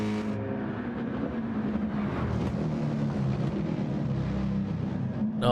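A Forza racing game car engine with a deep, bass-heavy baritone note, droning steadily and loud throughout, close and alone with no talk over it.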